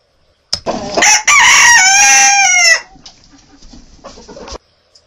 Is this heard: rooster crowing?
yes